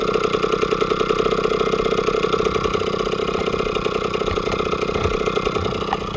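A Peugeot 103 SPX moped engine with a loose Doppler exhaust runs steadily near the microphone, a loud buzzing two-stroke idle with a rattly, pulsing drone that holds throughout.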